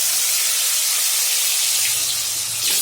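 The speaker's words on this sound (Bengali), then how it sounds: "এখন আমি মিষ্টি কুমড়াগুলো ভেজে নেব।" Pieces of sweet pumpkin sizzle in hot oil with a loud, steady hiss that fills the whole stretch, a brief dip in the low rumble midway, and no talking.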